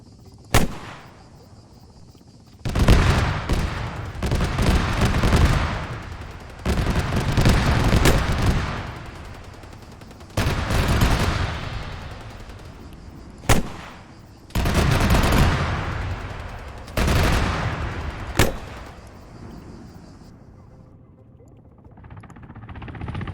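Heavy gunfire in a military video game, long-range shooting at about 700 meters: sustained loud bursts of rifle and machine-gun fire in several long volleys, broken by sharp single cracks and short quiet gaps.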